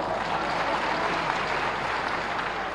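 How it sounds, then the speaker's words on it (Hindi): Audience applause at a political rally in Chhindwara, a dense, steady clatter of many hands clapping together, loud and sustained throughout with no voices over it. "अरे इस पे तो जोर से ताली बजाओ।"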